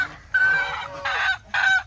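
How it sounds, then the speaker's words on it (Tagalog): Hen cackling before laying an egg on a farm, three loud close bursts of harsh cackling in quick succession, with brief pauses between them. "Kumakakak na siya. Mangingitlog na to."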